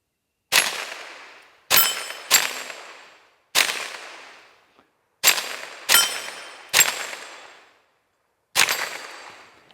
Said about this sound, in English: So let's take a few more shots with it.